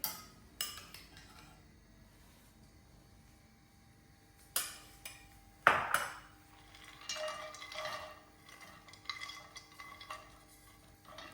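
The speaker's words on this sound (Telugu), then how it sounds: "దీనిలో ఘీ వేసుకుని నట్స్ అన్నీ వేయించుకుందామండి." Nuts roasting in ghee in a pan, with sparse spoon scrapes and clinks against the metal over a faint, quiet sizzle, a few louder knocks in the middle.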